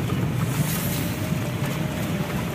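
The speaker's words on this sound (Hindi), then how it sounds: "पानी की लहर देखो।" Floodwater washing across a flooded main road in Assam, a steady broad wash of moving water with wind buffeting the microphone, continuous and fairly loud with no talking.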